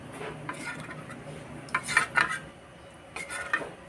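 A sweet mixture for buko salad ice candy is stirred in a pot until it melts. A metal spoon scrapes and clinks against the pot in irregular bursts, close and clear, with a faint sizzle underneath and no speech.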